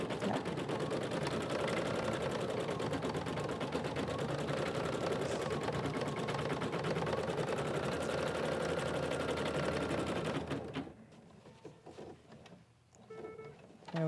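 Embroidery machine stitching an applique outline on fabric, a fast, steady mechanical chatter of the needle running loud and close for about ten seconds before stopping into quieter handling noise.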